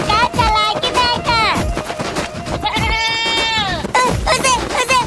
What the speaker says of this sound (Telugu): ఏ డాంకీ కాదా, మేక.